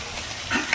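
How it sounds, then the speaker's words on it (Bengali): Cinnamon, cloves and black pepper fry with vegetables in a pan for fried rice, a brief, close sizzle with a quick stir near the end. "দারচিনি, লং, গোলমরিচ সবজির সঙ্গে ভেজে নেব"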